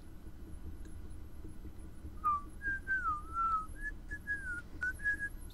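Someone whistles a short wavering tune, starting about two seconds in, with several rising and falling notes over a quiet room hum and no talking.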